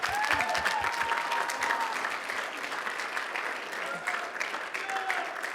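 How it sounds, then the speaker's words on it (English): An audience claps steadily for several seconds, a dense patter of applause with a few voices rising from the crowd. "Let's give him a round of applause."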